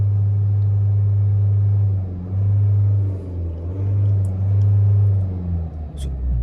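A Mahindra XUV300 held in first gear at a drag race start makes a loud, deep engine drone that holds steady, dips and swells back in uneven pulses, with no one talking.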